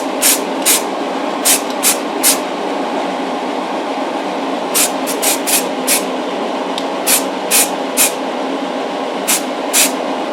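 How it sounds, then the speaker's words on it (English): An aerosol can sprays grey primer onto the base plate of a Dinky Toys Jaguar Mk X in short, regular hissing bursts, about a dozen repeated over steady background noise. "it will now get a coat of grey primer"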